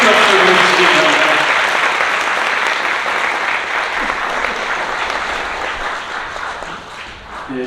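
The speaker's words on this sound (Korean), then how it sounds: "신랑님들에게 큰 박수를 주시기 바랍니다" Wedding guests applaud the grooms at a newlyweds' ceremony, a loud, full burst of clapping that starts strong and gradually fades over several seconds.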